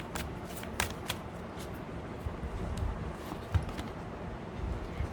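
Tarot cards are shuffled by hand for a reading, a steady close, soft riffling and rustling with a few sharper snaps, with no talking.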